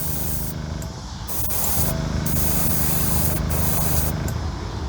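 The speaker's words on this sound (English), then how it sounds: "Have it thinned down, of course, so it sprays through my gun, my airbrush." An airbrush sprays black sealer thinned with reducer onto a custom build, a loud continuous hiss that briefly cuts out and then resumes, with short gaps between passes and no talk.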